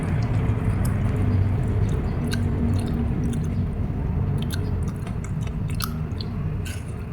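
Someone chews a mouthful of crunchy fresh greens eaten with spicy chili sambal, with steady close-up munching and squishing and faint crisp crackles throughout.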